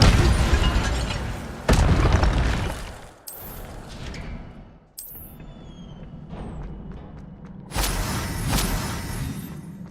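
An Incendio fire spell cast in the Hogwarts Legacy video game, loud booming, roaring bursts of flame that fade and cut out, then return with another surge, with sharp magical swishes in between.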